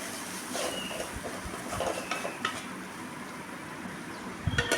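Potato masala sautés in a pan with asafoetida, a continuous sizzle broken by stirring scrapes and light clinks of a spoon against the pan, with a louder clatter at the end.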